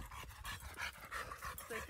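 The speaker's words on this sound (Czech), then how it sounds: "Pes se někde tamhle vzadu úplně vyřízený." A tired dog pants steadily in the back of a RAM 1500 pickup on a hot day, quick rhythmic breaths repeating close by with no talk.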